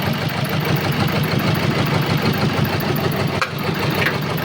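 A motor engine idling with a stuck piston ring and loss of compression, running as a steady, loud, continuous rumble with a faint uneven pulse and a brief dip near the end, no voices.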